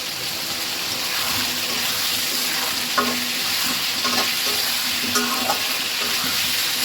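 A spice paste fries in oil alongside potatoes in a pan, giving a loud, constant hissing sizzle, with a few scraping stirs and light clinks near the end.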